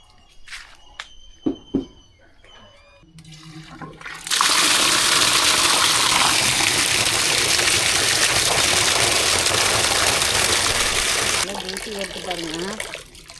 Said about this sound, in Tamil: இப்போ கோதுமை வந்து கொஞ்சம் கொஞ்சமாக கழுவி காய வச்சிடலாம்